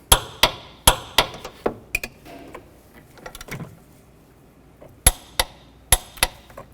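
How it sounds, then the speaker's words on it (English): Torque wrench clicking as engine mount bolts on a 2009-17 Chevy Traverse are tightened to 43 foot-pounds, sharp metallic clicks in quick bursts of several, pausing between rounds, close and loud. "Now I'm going to torque these bolts to 43 foot-pounds."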